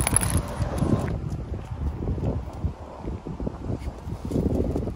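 Steady wind buffeting the microphone in low rumbling gusts, continuous throughout with some rustling.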